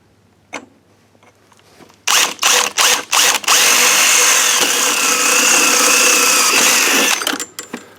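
Power drill enlarging the hole in a blade control cable fitting on an old MTD lawn mower: a few short bursts, then a sustained, loud, close whirring drill run of several seconds. No talking.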